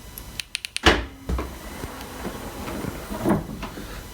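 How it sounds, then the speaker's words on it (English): A car trunk is opened in a quiet garage at night: a few sharp clicks, then a louder latch release and lid movement, followed by faint rustling and a soft thump. "open the trunk"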